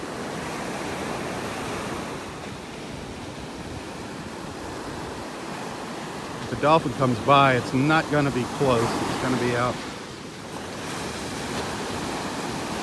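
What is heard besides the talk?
ocean waves breaking on beach, North Naples, Florida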